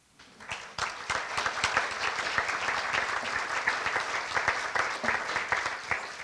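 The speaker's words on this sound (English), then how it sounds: "please refrain from applause except for giving them a hand right now" Applause from the audience at a university candidates forum, a dense, steady crowd clapping that builds within the first second and carries on evenly for several seconds, fairly distant in a large room.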